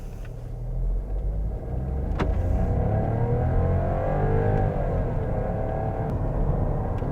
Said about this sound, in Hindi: सो ये है स्लाविया का 1 litre 3 cylinder turbo petrol engine